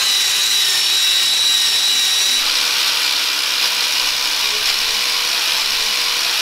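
A power tool whirs loudly and steadily as it strips paint, oil and crud off steel beams, with a grinding, abrasive tone throughout and no talk.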